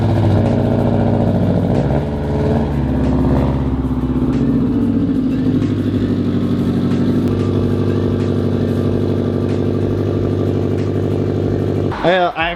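A car fitted with rear splash guards is driven outside, its engine running close by with a steady low idle and some shifts in pitch as it moves.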